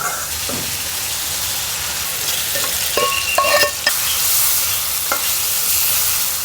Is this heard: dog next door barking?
no